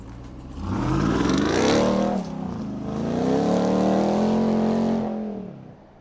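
A 2020 Ram 1500 TRX pickup with its supercharged 6.2 liter Hellcat V8 accelerates hard twice, the engine revving up in two rising surges with a brief lift between, loud and close with no talk.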